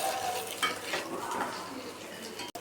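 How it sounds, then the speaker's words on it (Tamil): Onions sautéing in oil with curry leaves and paste, a soft steady sizzle with scraping stirs and light clinks of a utensil against the pan, close and continuous. "பச்சை வாசனை போடுறதுக்கு நல்லா வதக்கிக்கலாம்."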